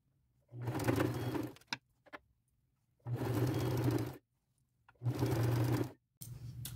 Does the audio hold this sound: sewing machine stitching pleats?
yes